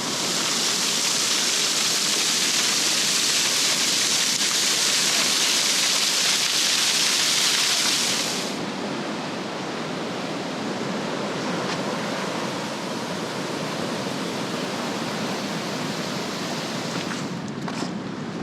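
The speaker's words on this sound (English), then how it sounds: "We got a little waterfall coming in over here." A small rainy-season waterfall pours over rocks with a steady, close rushing hiss that is loud for the first eight seconds, then softens to a lower, duller roar. No one speaks.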